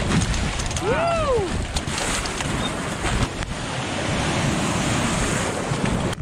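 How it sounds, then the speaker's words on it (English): Surf rolls into a bay around a Hobie Cat sailing catamaran as a steady, close wash of water, with heavy wind buffeting the microphone throughout and a brief rising-and-falling whistle-like tone near the start. "we have waves coming into this bay"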